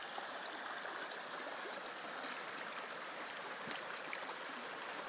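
Water from a small woodland stream tumbles over stones in a steady, even rush of close, continuous babbling with no voices.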